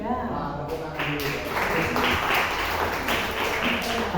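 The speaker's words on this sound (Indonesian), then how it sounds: "Tepuk tangan dulu." Church congregation clapping together, a dense, fairly loud patter of hands that swells after a brief start and carries on steadily, with some voices mixed in.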